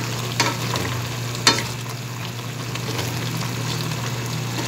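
Pakbet, a Filipino vegetable stew with squash and a little broth, simmering in a pot with a steady low sizzle and bubbling and a constant hum underneath, plus a couple of sharp utensil clinks near the start.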